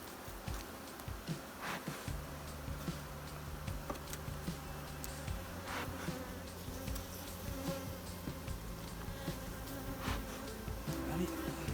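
Honey bees buzz steadily around an open beehive kept by a beginner beekeeper, a dense close swarm drone with scattered louder passes of individual insects, heard alone with no talking.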